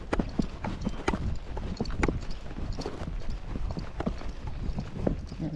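A Spotted Saddle Horse on a trail ride near a lake walks with a steady, close clip-clop of hooves, an even rhythm that continues throughout.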